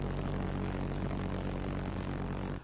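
A homemade mini pulse jet engine built from scrap roars steadily and loud at close range, a dense buzzing drone that holds unbroken before cutting off abruptly near the end.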